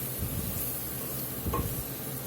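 Flour cooks in a pan for a Cajun gravy, giving off a soft, continuous sizzle and hiss with faint scraping from steady stirring.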